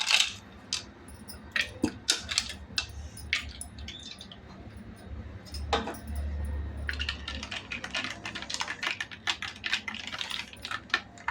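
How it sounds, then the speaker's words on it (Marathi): Ice cubes dropped into a glass of raw mango panha, a string of sharp close clinks and cracks, sparse at first and then a dense rattling burst toward the end. "गार होण्यासाठी बर्फ टाकूया"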